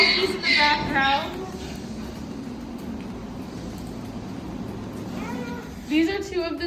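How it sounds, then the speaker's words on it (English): Miniature donkeys in a barn let out strained, wavering brays in a burst at the start and again near the end, in the background, with someone talking nearby. "you can hear our donkeys in the background"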